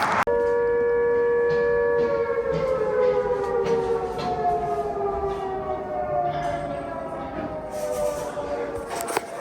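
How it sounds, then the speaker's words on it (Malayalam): A loud air raid siren in Kyiv, Ukraine, wails steadily in the morning, its pitch slowly falling over several seconds, with a brief knock at the start and end. "രാവിലെ തന്നെ കിവിലെ സൈറൻ കേട്ടോണ്ടാണ് എണീക്കുന്നത്."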